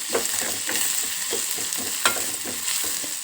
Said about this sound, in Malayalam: ഉള്ളി മൊരിയിച്ചെടുക്കണം നമ്മൾ.